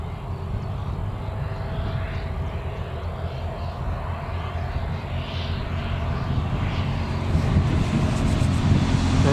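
A jet airliner, likely an EasyJet flight, approaches Newcastle Airport with a broad, steady engine roar that swells gradually louder toward the end, with wind buffeting the microphone and no speech.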